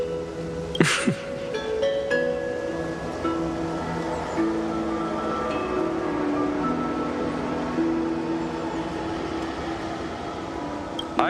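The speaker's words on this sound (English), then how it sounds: "The gentle breeze and the sound of waves still linger." Seaside waves and a gentle breeze in the game Honkai Star Rail, set at a childhood village by the sea. A steady wash of surf runs the whole time, with soft musical tones layered over it and no talking.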